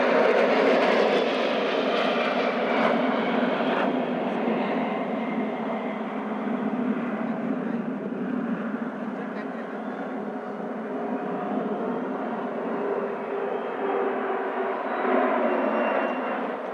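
Loud, sustained roar of Indian Air Force military jets passing overhead at the Republic Day parade flypast, a continuous rumbling whoosh that stays strong throughout with no clear talk.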